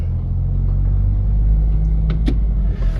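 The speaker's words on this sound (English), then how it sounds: "We've given the car a wee run, about 3 miles, and yeah, just heading home" Car rolling along a road on a short drive home, a steady low engine and tyre rumble close up inside the cabin, with a couple of faint clicks near the end.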